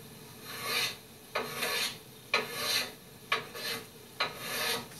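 Hand plane, a Lee Nielsen, shaving wood during a double bass build: five rhythmic rasping strokes, each a broad hiss that rises and tails off, close and alone with no talk.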